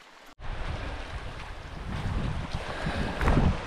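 Steady rumbling engine noise with wind buffeting and water rushing, growing slightly louder toward the end; no voices.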